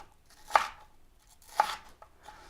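Red onion chopped for a salad on a cutting board, two sharp knife strikes about a second apart with a faint third tap, close and clear in a quiet room.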